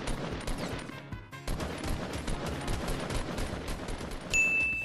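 Rapid bursts of gunfire in the video game Fortnite, dense overlapping shots and automatic fire running loud and nearly continuous throughout, with a brief dip near the start and a sharper electronic tone at the end.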